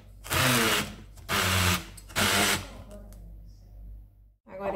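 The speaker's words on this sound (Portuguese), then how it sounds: "Vamos ter que bater isso tudo. Vou usar a minha bolinha mágica, mas também pode usar uma batedeira ou a mão" Electric mixer beating cake batter with sugar for a filled cake, running in three loud whirring bursts of about a second each with short pauses between, then softer machine noise and a brief restart at the end.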